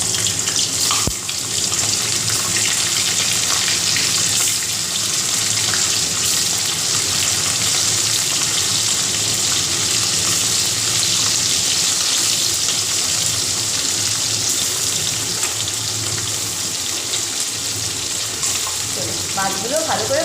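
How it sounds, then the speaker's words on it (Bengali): Puti fish frying in hot oil in a wok, a steady loud broadband sizzle running unbroken for the whole stretch, with a few brief clinks near the end. "এবার আমি এর মধ্যে মাছগুলোকে ভাজা করে নিই।"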